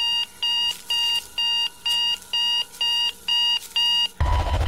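An alarm clock rings inside a horror video game, firing rapid bursts of beeps in a steady repeating rhythm, loud and close, before cutting abruptly into a sudden rush of noise.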